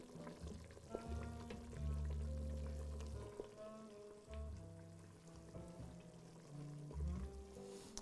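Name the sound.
grilled cheese simmering and sizzling in a pan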